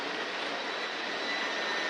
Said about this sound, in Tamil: ட்ரோன் பறக்குது.